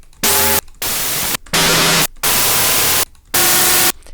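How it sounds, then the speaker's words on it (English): Synthesized noise from a noise device in Ableton Live, played as four loud, bright bursts of static-like white noise with short silent gaps between them, each burst carrying faint tonal lines underneath. "So I think I'll use that noise device I shared as the primary sound here."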